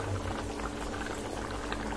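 Dried fish and vegetable curry in gravy simmering in a pot, with a steady, close bubbling and boiling that continues evenly throughout and no talking.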